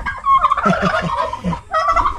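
A turkey gobbles loudly and close by, a rapid warbling burst followed by a second shorter gobble, with no talking.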